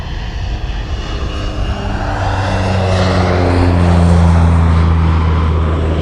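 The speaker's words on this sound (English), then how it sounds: "The airplane's coming by, so I'm going to stop for a little bit." A propeller airplane drones overhead above rice fields in California, its engine hum growing steadily louder and nearer over several seconds, with no talking.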